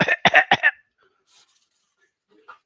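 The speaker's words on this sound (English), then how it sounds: "But that's the whole point, is to make you cough." Three sharp coughs in quick succession close to the microphone, then near silence with a faint breath and a small sound at the end.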